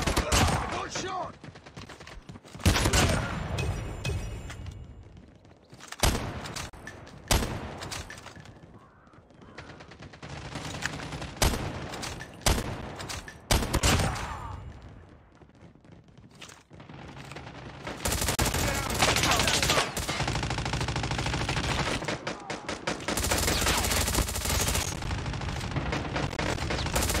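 Rapid, loud gunfire from the mobile game Call of Duty Mobile comes in sharp bursts and sustained volleys, with short pauses between exchanges and continuous battle noise in the background.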